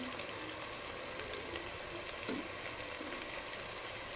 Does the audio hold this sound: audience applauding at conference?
no